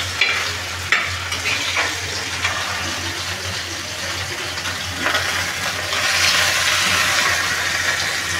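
Pomfret fish fries in a pan with a loud, dense sizzle and a few utensil knocks as it is turned. The crackle swells brighter and fuller toward the end, with no one speaking.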